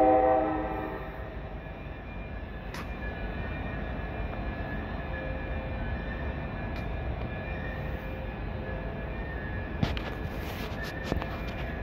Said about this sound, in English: the train I was watching just left. There it went.